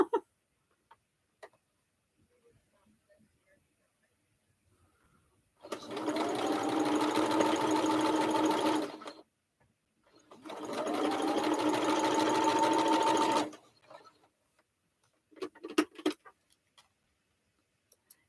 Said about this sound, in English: Who would have thought 7 years ago I'd be on YouTube sewing this together